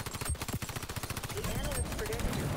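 Rapid SMG fire from an MP7 in the shooter XDefiant, a dense run of quick, evenly spaced shots close up and fairly loud, with brief gaps and a person talking over part of it.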